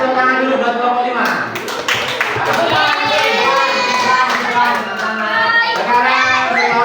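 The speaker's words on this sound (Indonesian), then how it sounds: "Kasih tepuk tangan dulu buat kelompok 5." Schoolchildren in a classroom clap for a presenting group, a burst of many hands clapping mixed with children's lively voices and chatter.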